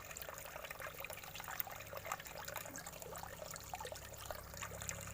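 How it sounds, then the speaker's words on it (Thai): A steady trickle of water splashing continuously from a cement frog fountain into a fish pond, soft and close with no voices. "ให้มันมีน้ำออก ทำเป็นน้ำตก"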